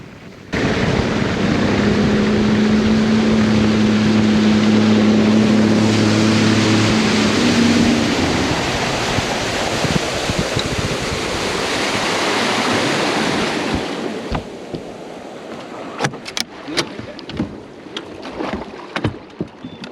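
A fishing boat motor drones loudly as it runs across Smith Lake, a steady hull-slapping rush of water and wind that fades near the end into scattered knocks and splashes.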